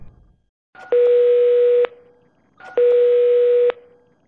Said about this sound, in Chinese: 主持人张婷拨通了陈先生姐姐的电话。